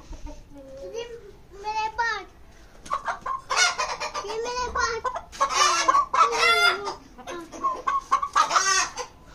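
Chickens cluck and a rooster calls repeatedly, close by and lively, with voices talking in between.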